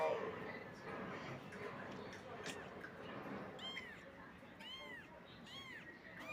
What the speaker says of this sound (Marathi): हे आमच्या इथे मांजर आहे,